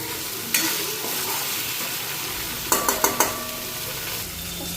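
Lentils stirred and frying in a pan give a steady close sizzle, with a few sharp scraping clicks of the spoon against the pan near the middle.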